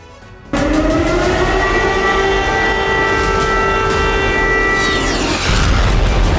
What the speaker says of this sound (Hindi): यूक्रेन की राजधानी कीव में अचानक गूंजने लगा सायरन